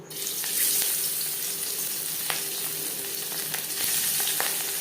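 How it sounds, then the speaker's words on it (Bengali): Fish sizzling in hot refined oil in a pan, a continuous close crackle and spatter with occasional sharper pops. "মাছ ভাজবার জন্য রিফাইন্ড অয়েল গরম করে নিয়েছি"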